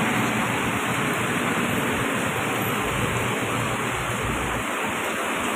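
Heavy rain pours down around a street food stall, a dense, loud, unbroken roar of falling water that stays constant throughout with no voices.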